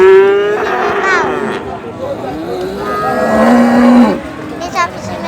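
Simmental cattle at a busy livestock market give several loud, drawn-out moos, one long low bellow rising near the end, over a steady crowd and vehicle hubbub.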